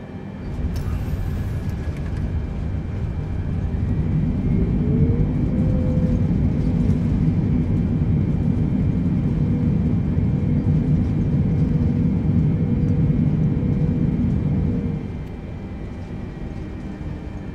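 A Boeing 747 landing at Frankfurt am Main airport at sunset gives a loud, steady broadband jet roar that holds for most of the stretch, then drops to a quieter rumble near the end, with no talking.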